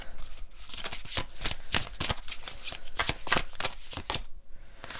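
Tarot cards being shuffled by hand, a close run of crisp riffling slaps and flutters in quick succession, with no voices.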